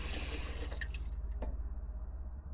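A faucet on a van's sink runs water at low flow, a close, steady splashing stream that fades as the flow is shut off near the end.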